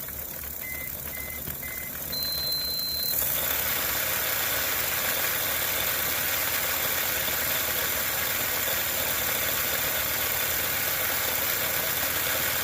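A Mini-Z RC car motor spins its wheels on a speed dyno, a steady high whine and whir that starts a few seconds in and holds loud and constant to the end.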